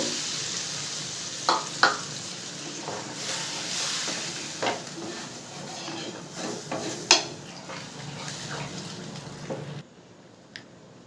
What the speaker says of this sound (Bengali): এই বাটি দু বাটি পরিমাণ জল দেবো